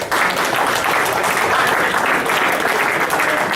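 Audience at a baseball league awards banquet breaking into steady, dense applause, close and loud, sustained evenly with no talk over it.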